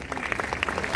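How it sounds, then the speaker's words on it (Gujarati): Brief burst of applause from a conference audience at a homoeopathic summit in Vadodara, scattered claps forming a short steady patter. "તાળીઓનો ગડગડાટ"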